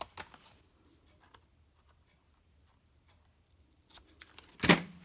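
Scissors trim the edge of a paper card in a craft setting, giving a few quick snips at the start and a cluster of sharper cuts near the end, with quiet pauses between.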